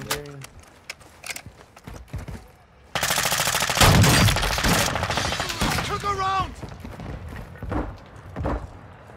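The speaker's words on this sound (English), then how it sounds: "the freaking bots would stop shooting me. They're still shooting me" AI bots fire at the player in the Call of Duty DMZ video game, a loud sustained burst of rapid gunshots in the middle, with scattered shots and someone talking before and after.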